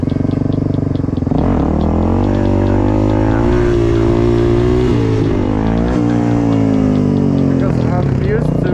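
A motorcycle engine revs and pulls hard in first gear during wheelie practice. The loud engine tone rises and falls as the throttle opens and closes, and it runs continuously up close.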